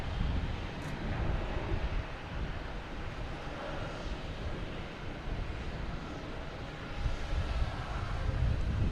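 A British Airways airliner arriving from Heathrow at Boston Logan Airport, a steady, broad low rumble of jet engines mixed with wind buffeting the microphone, continuous and fairly loud throughout without any talking.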